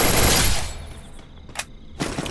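A burst of gunfire in the mobile battle game Free Fire, loud at the start, then fading into a quieter gap before two shorter bursts crack near the end.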